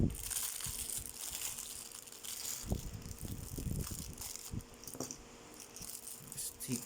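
Plastic packaging around a Beyblade spinning top with a metal frame is torn open up close, crinkling and crackling in scattered bursts with a few sharper snaps.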